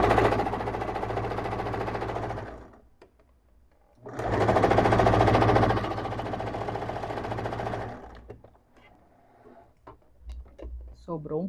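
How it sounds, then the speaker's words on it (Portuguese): A sewing machine stitching a seam in viscose fabric runs in two steady loud bursts with a pause between, then stops for scattered clicks and handling noises. "Não tô costurando rente com uma margem bem curtinha, porque eu quero depois fazer um zigue-zague"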